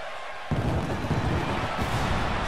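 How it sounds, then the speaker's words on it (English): Pyrotechnic fireworks at a wrestling entrance for a world heavyweight championship match burst in suddenly after a quiet half second, then roar as a loud sustained crackling rumble mixed with crowd noise. "Fireworks are out for Reese Adams."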